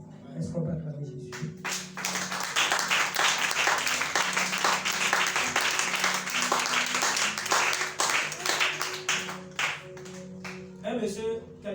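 A church congregation applauds and cheers for Jesus, dense sustained clapping for about ten seconds with voices calling out and a speaker heard at the start and end.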